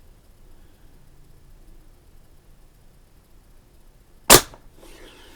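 A single sharp shot from a Barra 1866 air rifle fired at a leprechaun hat target on a range, one sudden crack rising out of quiet background hiss with a short tail after it.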